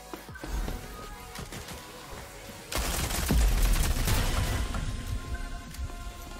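Gunfire rattles in the online shooter Rogue Company, scattered shots at first, then a dense, loud sustained volley that keeps going with crackling impacts through the rest.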